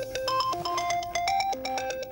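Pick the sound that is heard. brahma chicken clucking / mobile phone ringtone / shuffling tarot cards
mobile phone ringtone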